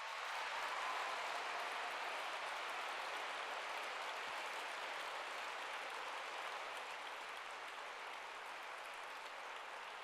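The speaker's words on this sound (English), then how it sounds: "Please give them an applause." An audience applauds teachers at a Hungarian scientist education program launch, a sustained, even wash of many hands clapping, steady and fairly faint throughout.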